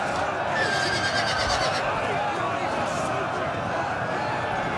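Horses neighing amid a siege battle in the Total War video game, Dawnless Days multiplayer, with Knights of the Swan cavalry of Dol Amroth charging; faint whinnies sit under dense continuous battle din and a commentator's talk.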